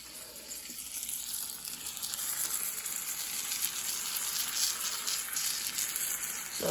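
Chicken fried steaks cooking in butter in a pan, giving a steady, fairly loud crackling sizzle that holds throughout without speech.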